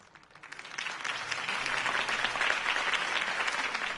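Crowd applause from the video game Batman Episode 1: Realm of Shadows rises out of near quiet. It swells into a broad, sustained wash of clapping that holds steady and fairly loud until the end.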